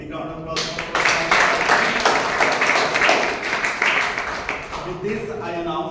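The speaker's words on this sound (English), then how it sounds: "A big round of applause." Audience clapping at a Toastmasters meeting, a burst of applause starting abruptly, holding steady for several seconds and then tapering off, with speech audible around it.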